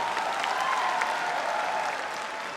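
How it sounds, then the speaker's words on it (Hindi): An audience at a mushaira poetry gathering in Barabanki applauds to welcome a poet. The steady, dense clapping holds at an even level throughout, moderately close and heard on its own. "आपकी जोरदार तालियां गजेंद्र साहब के लिए"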